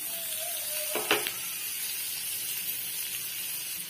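Chopped onion and green chilli with a pinch of turmeric fry in a pan under a soft, steady hiss, with a brief clatter of stirring near the start and otherwise quiet, even sizzling.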